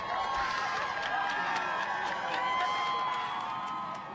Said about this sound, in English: A crowd of more than 100 students, teachers, and parents holding signs and chanting his name